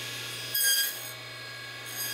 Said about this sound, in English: Then I can flip everything over and cut the joints on the other ends.